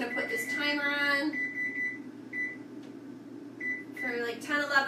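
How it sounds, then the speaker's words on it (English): A kitchen timer being set while cabbage cooks, giving a few short electronic beeps in a quiet kitchen, with someone talking before and after. "So I'm just going to put this timer on"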